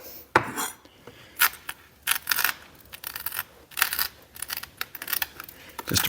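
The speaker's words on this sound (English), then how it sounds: "so I'm going to chop it up a little bit." A knife chops long-needled rosemary on a cutting board as sharp, irregular clicks and taps come in quick bursts at close range.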